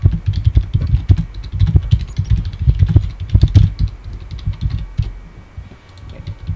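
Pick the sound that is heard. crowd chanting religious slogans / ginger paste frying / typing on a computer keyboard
typing on a computer keyboard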